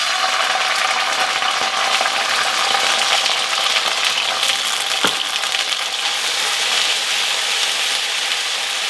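Four cloves of minced garlic and two teaspoons of finely chopped fresh ginger sizzle hard in a hot pan for General Tso's cauliflower, a loud, even crackle throughout with one brief click partway.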